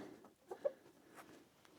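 Chickens clucking faintly inside their roost, soft scattered clucks from a few birds, with one slightly louder cluck standing out against a quiet background.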